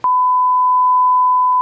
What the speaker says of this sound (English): We're gonna beep that entire part.